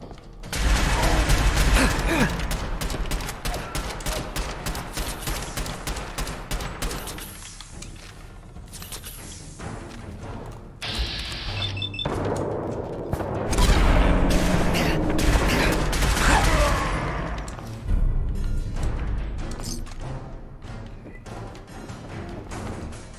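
Rapid gunfire and heavy booms from combat in the video game Fallout 4, loud and dense, with bursts of shots and impacts running almost throughout, over a busy game soundtrack.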